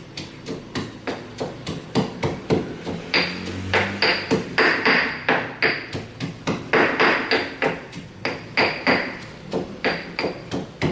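Ingredients for a sixteen-ingredient noodle dish are pounded on a table with a steady run of hard, hammer-like thuds, about two strikes per second. Some blows land louder than others, and no one speaks.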